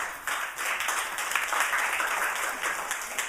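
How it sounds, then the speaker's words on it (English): An audience gives a round of applause, a dense, sustained wash of many hands clapping at once for a few seconds, fairly close and steady. "Let's give them a round of applause."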